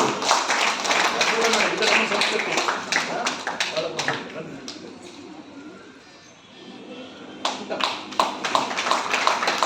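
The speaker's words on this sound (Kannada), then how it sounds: "ಅವರ ಪೋಷಕರಿಗೂ ಕೂಡ ಒಂದು ಜೋರಾದ ಚಪ್ಪಾಳೆ ಖಂಡಿತ ಬರಲಿ" An audience at an annual foundation event recital gives loud applause for a young girl's parents, a burst of dense clapping that dies away and then swells again.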